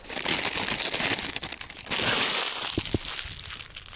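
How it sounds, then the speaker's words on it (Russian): A plastic bag gets crumpled and pushed into a bucket on a Don river fishing trip. Loud, close crinkling and crushing runs throughout, with a few sharp knocks near the end. "Пакетик в ведро, чтобы не мусорить."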